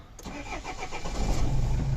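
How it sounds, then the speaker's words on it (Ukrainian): A Renault Trafic 2.5 van engine cranks over briefly with a rhythmic starter whir, then catches and settles into a steady, close idle. "Так, машина заведена."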